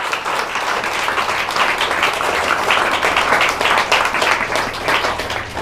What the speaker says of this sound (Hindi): एक बार जोर से खुदा के लिए ताली बजाए जो परमेश्वर है।